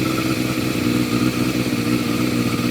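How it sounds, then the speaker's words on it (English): A motorcycle-type engine runs steadily at moderate revs, a continuous mechanical drone with slight fluctuations, close and fairly loud, no talking. "So we'll turn the revs back down again a bit."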